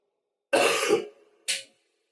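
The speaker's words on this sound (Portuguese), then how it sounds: "Me desculpe pela tosse" A single harsh cough up close, followed a moment later by a shorter, lighter cough or throat-clear, then silence.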